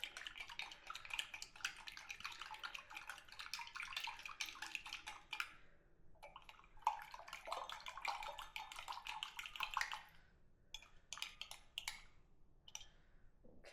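Bread yeast is stirred into liquid for mead, making faint, rapid clicking and sloshing from a utensil against the container. The stirring pauses briefly, starts again, then trails off into scattered taps.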